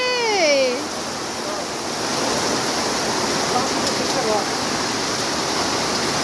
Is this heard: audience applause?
no